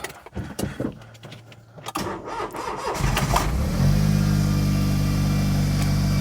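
A Smart Fortwo's small engine shifts into reverse, first with scattered clunks and a brief mechanical whine, then settling into a loud, steady droning idle that strains a little in gear.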